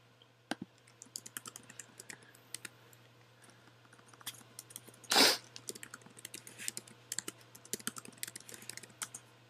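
Keys clack in quick, irregular bursts on a computer keyboard as an email address and password are typed, with one louder, denser clatter of strikes midway over a low steady hum.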